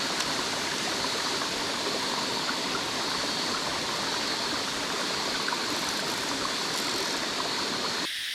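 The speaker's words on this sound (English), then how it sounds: "I love that you were able to just walk underneath the waterfall" A secluded waterfall on a forest photo walk pours in a steady, dense roar of rushing water that fills the whole stretch, with no voices and no break in the flow until an abrupt cut at the very end.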